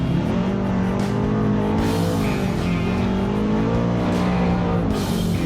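A Turbo Xpedition off-road vehicle accelerates along a trail, its engine note climbing and falling in steady revving sweeps, loud and close throughout.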